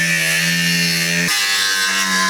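A power tool whines steadily with a strong humming tone while cutting off a car's rear bumper during removal of an M57 engine; the pitch drops abruptly partway through as the load changes, loud and close.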